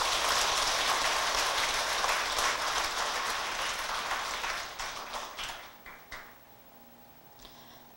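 Loud, dense applause from a gathered crowd at a Buddhist ceremony for the founding of a temple association, which thins out and fades into scattered claps and near silence toward the end.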